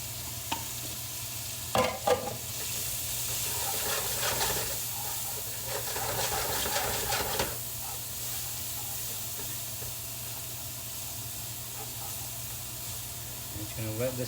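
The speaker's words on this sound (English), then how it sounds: "And here I have shallot, some celery, and green pepper." Shallot, celery and green pepper sautéing in a pan, a steady soft sizzle with scraping and stirring clatter, a few sharper knocks early on; a voice speaks briefly over the cooking.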